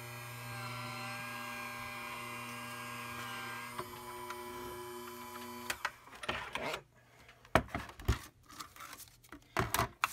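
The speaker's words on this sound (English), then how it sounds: "You'll just hear my vagabond going next to me." An electric Vagabond die-cutting machine hums and whirs steadily for several seconds before giving way to rustling, crinkling paper handling and tapping close by, with no talk.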